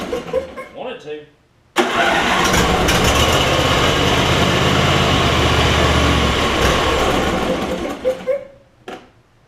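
A long-idle MTD Craftsman PYT9000 riding mower engine cranks and catches, running loud and steady nearby for several seconds before cutting out, with someone talking before and after.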